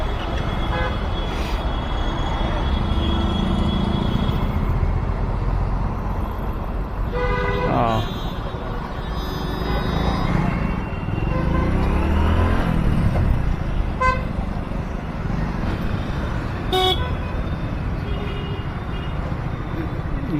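Car horns honk repeatedly in heavy Delhi morning traffic, short toots of varying pitch over a constant roar of engines and road noise, with a voice talking throughout.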